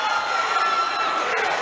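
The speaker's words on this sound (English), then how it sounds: "Crowd liking what they're seeing." A crowd at an amateur 135 lb MMA bout cheers and shouts in a loud, continuous roar with scattered whoops, heard briefly at close range.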